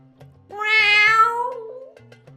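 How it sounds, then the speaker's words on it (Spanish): A single drawn-out cat meow rises and falls over about a second and a half, clear and fairly close against a quiet background with faint low tones. "Un maullido débil,"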